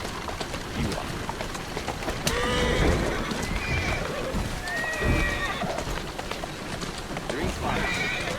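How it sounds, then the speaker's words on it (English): Horse neighing and whinnying in Assassin's Creed Syndicate, with several bright whinnies spread across the stretch over steady clip-clopping hooves and a rain-like wash, while a voice talks throughout. "Who's a good horse? You are."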